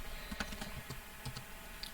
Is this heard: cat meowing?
no